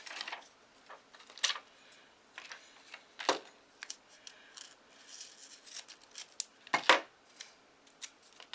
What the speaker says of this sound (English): I'm going to cut this a little narrower.